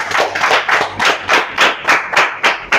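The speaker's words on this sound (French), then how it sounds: "Maintenant, applaudissez pour vous, s'il vous plaît." An audience claps at a French-language nutrition coaching talk, a close, loud run of sharp hand claps in an uneven rhythm for a few seconds, with no voices over it.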